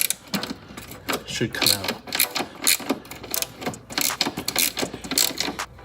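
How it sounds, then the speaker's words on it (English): A 14 mm wrench works a stud at the firewall of a Ford Focus ST engine bay, giving steady rhythmic metallic ratcheting clicks up close while someone talks over them. "take our wrench, 14 millimeter, go over to the firewall, loosen this stud"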